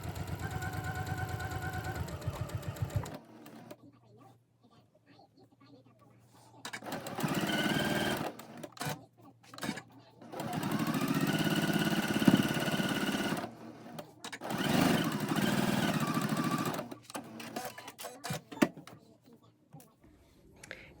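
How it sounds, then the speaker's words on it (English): Domestic sewing machine runs a quarter-inch seam on a 60-degree triangle quilt piece in three steady whirring bursts of rapid needle clatter, separated by quiet pauses, with talk near the start. "I'm going to sew down the seam with a 1/4 inch seam allowance"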